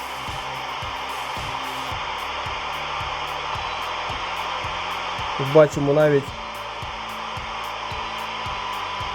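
With the squelch open, a Yaesu FT5D handheld radio receiver gives off a steady, fairly loud broadband hiss, with faint regular ticking beneath it and someone speaking briefly over the noise.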